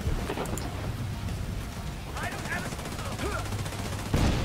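Rapid video-game gunfire in The Division 2 rattles through the scene as a dense, continuous burst against a rain-like backdrop, with occasional chatter from players in the background.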